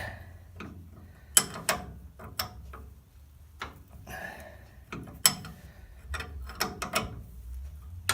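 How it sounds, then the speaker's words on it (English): Wrench working a stubborn nut on a steering gear box, giving irregular metallic clicks and ratcheting ticks with sharp knocks between quiet gaps, close by and alone without talk. "watching me turn a stubborn nut"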